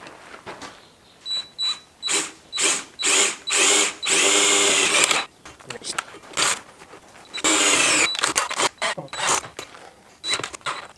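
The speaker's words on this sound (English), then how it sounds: "So now I'm gonna drill these mounting holes." A power drill drills mounting holes during a Husqvarna professional weed eater repair, whining in repeated short bursts, then running in two longer sustained stretches, with brief gaps between pulses; close and loud.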